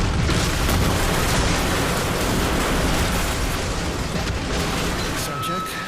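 Tempest Barrage explosions in the video game Warframe make a dense, continuous roar of booming blasts, loud and unbroken from start to finish.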